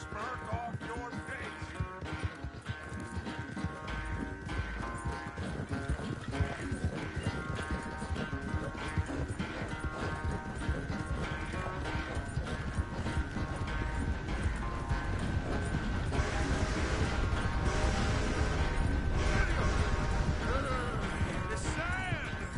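A horse's hooves clip-clop in a steady, even rhythm in the Red Dead video game on PS5. The hoofbeats run continuously beneath game dialogue and background ambience.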